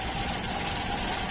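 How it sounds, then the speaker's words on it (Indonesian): A 1997 Mazda Vantrend engine idles low and smoothly, a close, steady rumble with a faint knocking undertone and no voices over it. "Nah, ini saat mesin stasioner"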